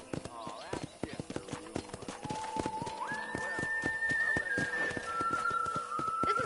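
Horse hooves clip-clop steadily around a corral in the Red Dead Redemption video game, with a short whinny and a rising whistle-like tone, all fairly quiet against a soft outdoor background.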